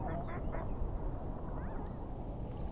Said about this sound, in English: Couple of ducks there.